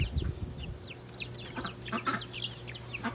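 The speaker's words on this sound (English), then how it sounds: "some of the chickens will come over here, wonder what these little tiny things are" Chickens cluck softly in a barn, several short chirpy calls scattered over a steady low hum, close and moderately quiet.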